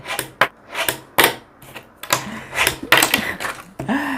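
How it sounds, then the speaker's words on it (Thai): Sharp clacking of a fingerboard landing kickflip attempts on a surface, a series of distinct hard clicks and snaps in irregular bursts, close and fairly loud, with no talking. "เดี๋ยวเรามาลองคลิกฟลิปกัน"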